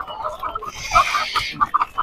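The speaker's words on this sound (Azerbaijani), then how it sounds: "Yumurtayan toyuqlar 12 manata." Laying hens clucking at a busy outdoor poultry market in Sabunchu: repeated nearby clucks and short squawks in an irregular rhythm, mixed with people talking.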